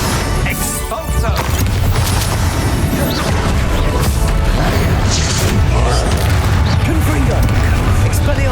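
Explosive blasts and crashing impacts from spells in the Hogwarts Legacy final boss fight, a dense, continuous barrage of loud booms and whooshes layered over a busy battle mix with a voice shouting incantations.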